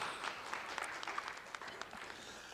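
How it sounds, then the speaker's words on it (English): Families at a school pageant applaud in steady, moderately distant clapping that keeps an even level throughout. "So let's start off by give yourselves a round of applause"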